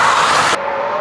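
A Porsche 992.2 GT3 prototype drives over a curb with a loud, rushing broadband roar that cuts off abruptly partway through. A thinner, steady engine tone carries on alone afterward.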